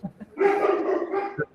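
A female dog barks indoors in a burst of loud, agitated barks lasting about a second, with a few shorter yips before and after.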